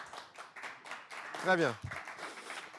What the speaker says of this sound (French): On vous raccompagne sous les applaudissements.